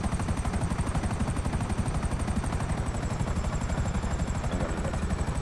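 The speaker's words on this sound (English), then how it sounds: "So I'm just gonna go there in this helicopter." A helicopter in GTA 5 Online flies with a steady, rapid rotor chop and a droning turbine whine, loud and continuous at close range, with no talking over it.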